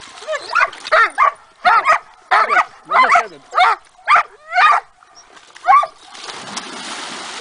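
A dog named Bruno near the water in Sitka, Alaska, during a king salmon fishing trip: about nine sharp, evenly spaced barks in a quick loud series close by, one more after a pause, then splashing noise.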